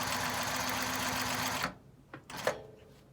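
A sewing machine runs steadily while stitching zigzags and loops on a quilt block, then stops abruptly, leaving a few light clicks of handling in a quiet room.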